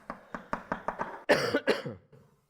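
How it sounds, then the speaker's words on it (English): A person coughs in a quick series of dry, evenly spaced bursts, then lets out two louder, harsher coughs and goes quiet. The setting is a lecture hall, heard close and clear. "I have a little bit of a cough."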